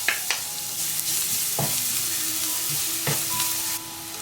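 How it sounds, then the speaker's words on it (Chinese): Minced garlic stir-fries in a generous amount of hot oil, a steady loud sizzle broken by a few sharp scraping strokes of a spatula against the wok. "先把蒜蓉放进来炒香，"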